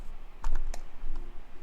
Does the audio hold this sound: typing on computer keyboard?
yes